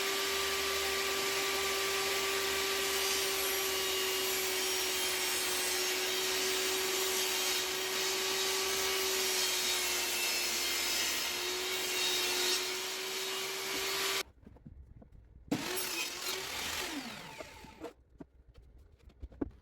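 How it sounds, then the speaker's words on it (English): A saw rips and trims 9mm plywood pieces for a Christmas tree collar, a steady, loud whine of the running blade that cuts off abruptly, followed by a few short bursts of noise and quieter gaps. "I ripped them to width and then trimmed the sides to length."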